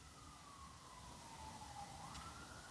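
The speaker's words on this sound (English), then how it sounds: "Sirens going." An emergency vehicle siren wails at a distance, its tone sliding slowly downward and then rising, over a low rumble of traffic.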